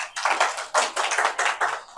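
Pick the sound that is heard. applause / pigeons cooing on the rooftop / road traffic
applause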